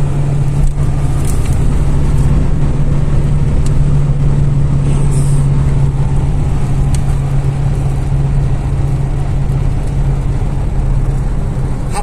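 Volkswagen Gol engine held at about 4,500 rpm while cruising at 120 km/h, a loud steady drone with a constant low hum and road roar filling the cabin throughout, no voices.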